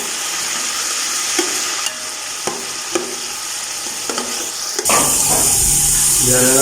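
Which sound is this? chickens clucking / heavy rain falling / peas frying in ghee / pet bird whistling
peas frying in ghee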